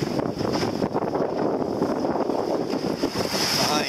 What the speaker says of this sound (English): We're back to wing and wing, running right before the wind.